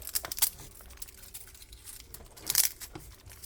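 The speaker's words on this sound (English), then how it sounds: "the tortilla shells. And all I'm going to do is just get them and crunch them up" Crisp tortilla shells being crunched and broken up by hand close by, brittle crackling in quick bursts with a louder cluster of snaps near the end.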